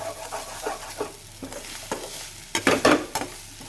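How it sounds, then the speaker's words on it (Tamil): Pepper and cumin tempering in a pan, stirred and sautéed at close range, with repeated scraping strokes over a soft sizzle that build to a louder burst of stirring near the end. "இது வந்து வெறும் மிளகு ஜீரகம் மட்டும் போட்டு நம்ம வந்து தாளிச்சு விட்டு நல்லா வதக்க வேண்டியதான்."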